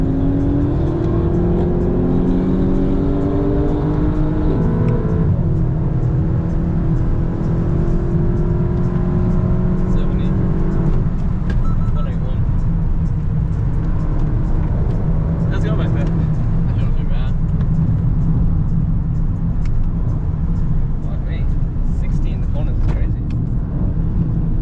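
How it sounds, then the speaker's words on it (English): A Mk8 Volkswagen Golf races at Lakeside Park during a Euro day, its engine droning loud and close with rising and falling revs through a corner, while a driver talks over it throughout. "I'm gonna carry some speed through this corner."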